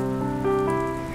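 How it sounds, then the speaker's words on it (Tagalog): Rain falls in a steady, even patter, blended with sustained musical tones, with no talking. "Ulan na!"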